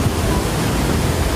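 Artificial waves on a FlowRider surf machine rush as a loud, constant broadband water roar, close and unbroken through the whole short moment.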